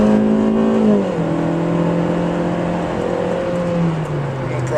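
A 2013 Kia Soul 2U drives along with a steady engine hum heard from inside the cabin, the pitch dropping as the car shifts gears and eases off, with road noise and no speech.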